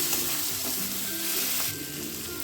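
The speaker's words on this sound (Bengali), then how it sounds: "এক চামচ লঙ্কার গুঁড়ো এক চামচ জিরের গুঁড়ো এক চামচ ধনের গুঁড়ো দিয়ে খুব ভালোভাবে এটাকে কষিয়ে নিতে হবে" Chela fish sautéing with chilli, cumin and coriander powder makes a dense, close hiss and sizzle with stirring scrapes, which drops to a quieter level partway through.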